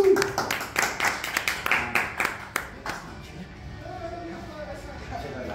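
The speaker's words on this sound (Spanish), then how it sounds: "pues un fuerte aplauso los dos." A small audience claps for two presenters at a Spanish-language artbook launch, a burst of close individual claps that thins out after a few seconds and fades into quiet room noise with a voice speaking softly.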